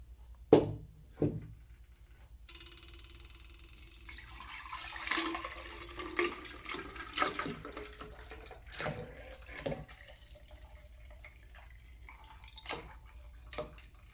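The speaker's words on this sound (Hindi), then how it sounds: "अब हम इनको वापस दोबारा जग में निकाल लेंगे" Sattu drink being poured back into a jug, a steady trickling liquid stream with splashes and a few light clinks, heard alone without talk.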